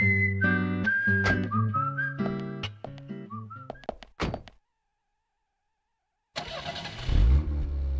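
After a stretch of whistled, harmonic game music and a short silence, a car engine in Deadly Premonition cranks and catches, turning into a loud, low rumble.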